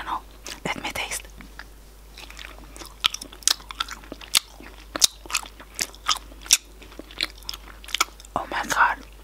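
Someone bites into soft fudge and chews it, with sharp, close crunches and sticky chewing bursts spaced unevenly, each crisp and loud against a quiet background, with faint whispering at the start.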